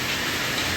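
Steady rain falls outdoors in a city street, a dense, even hiss of drops on surfaces without pause.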